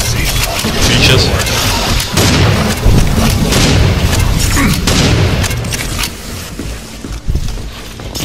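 Shotgun blasts from the first-person shooter Serious Sam: Siberian Mayhem, heavy booming shots recurring amid dense, continuous game noise and music, loud and close.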